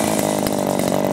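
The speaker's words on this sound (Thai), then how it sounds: "นี่ฮะเครื่องตัดหญ้าวูบเลยทีเดียวนะ" A grass trimmer cuts weeds along a roadside, its small engine whining loudly and steadily at high revs with no pause.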